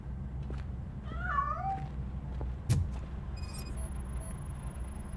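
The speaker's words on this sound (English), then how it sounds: "That cat must be hiding inside." A cat meows in the RoboCop: Rogue City video game, one clear wavering meow close by, followed by a short sharp knock and then a thin high tone against a low background hum.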